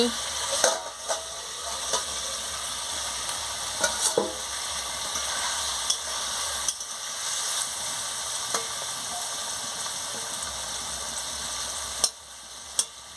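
Boiled ridge gourd, snake gourd and potato are stirred in a pan over a continuous background sizzle, with scattered scrapes and taps of the spoon against the pan.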